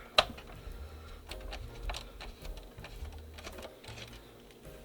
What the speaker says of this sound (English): we got 6 screws we have to take off of the case here.